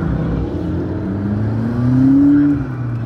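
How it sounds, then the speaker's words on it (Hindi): A McLaren supercar's turbocharged engine accelerates in sport mode, a loud steady drone from inside the cabin that swells into a rising whine near the middle before easing off, with no talk. "टर्बो की आवाज सुन रहे हो?"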